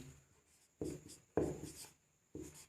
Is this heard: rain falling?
no